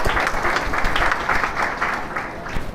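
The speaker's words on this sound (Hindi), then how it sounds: "तनीषा कुमार के लिए एक बार जबरदस्त ताली हो जाए।" Enthusiastic applause from a seminar audience at a motivational seminar in Kathara, Bokaro, steady dense clapping throughout, close and loud, with no talk over it.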